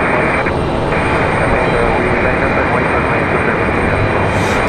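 An Air France Boeing 777 departs with a loud, sustained jet roar, dense and unbroken, close and powerful from start to finish.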